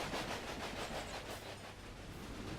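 A train passing in the video game Railway Empire rumbles past with a rhythmic clatter and hiss, steady and moderately close, no voices.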